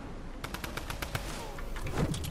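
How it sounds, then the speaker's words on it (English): Rapid bursts of drum gun fire in the Fortnite video game, a quick string of sharp automatic shots at moderate distance followed by a few heavier thumps near the end. "That sounded like the drum gun."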